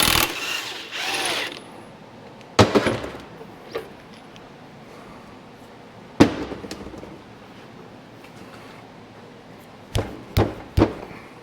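A small DeWalt power tool works on a Case 580SK backhoe hydraulic cylinder. Sharp mechanical clicks and bursts come at irregular intervals between quieter stretches, close by, with no voices.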